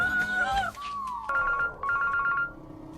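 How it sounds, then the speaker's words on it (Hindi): A mobile phone rings indoors with a bright electronic melodic tone, playing a short pattern of repeated beeping notes that stops and starts again, fairly close and clear over a quiet room. "ये रफीकी का फोन है।"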